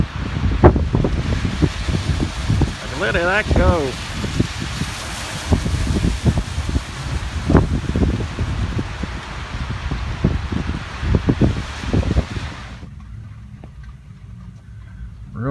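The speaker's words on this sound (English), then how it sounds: "We're having a bit of a windstorm right now." Strong wind gusts buffet the microphone during a windstorm at an off-grid solar and wind property, a steady roaring rush with surging gusts and rustling, loud and close, with a brief voice near the start before the noise drops off at the end.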